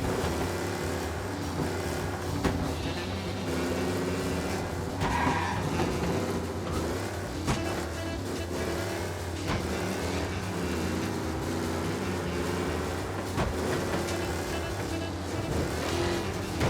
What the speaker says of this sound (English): alert for a race car out on the roads tonight.